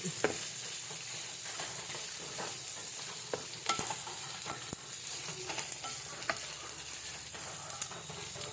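Sisig frying in a pan while being stirred, a steady hiss of sizzling with sharp intermittent scrapes and taps of the spatula, close and unbroken by talk.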